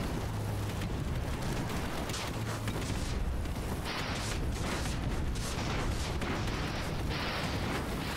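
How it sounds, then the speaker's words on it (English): Sustained bursts of gunfire spray from airships in the strategy game Conquer the Skies, a dense, unbroken clatter of shots and impacts lasting throughout, loud and without pauses. "There is a lot of bullet spray going on here."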